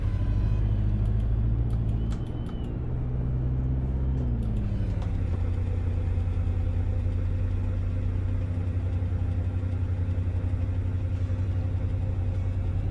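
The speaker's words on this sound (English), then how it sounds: "What an exhaust note!" A car engine and exhaust in the Assetto Corsa racing simulator settle into a steady, close idle after a brief blip that rises and falls in pitch, heard alone without speech.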